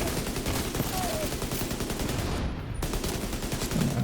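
Rapid video game gunfire crackles in dense, loud bursts, shots running together almost continuously with a brief lull near the middle, close and without speech.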